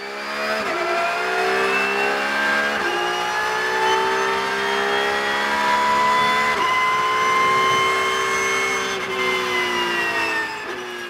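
Onboard a Porsche Cup race car at the Red Bull Ring in wet conditions, the engine screams loud and sustained, pitch climbing through the gears with brief dips at each shift, close and constant throughout.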